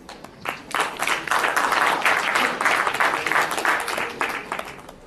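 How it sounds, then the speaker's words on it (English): Audience applause at a conference plenary session on sport for development: many hands clapping in a sustained, fairly close burst that swells and then eases off. "I'm sure we can do better than applause"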